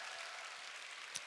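Audience applause at a one-day business seminar, a faint, distant, steady patter of clapping heard at low level across the whole moment, with one sharp louder clap near the end.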